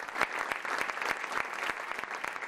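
Applause at a tribute to Victoriano Ríos at the Ciudadanía Canaria headquarters, a dense steady patter of many hands clapping at once, close and sustained throughout with no voices over it.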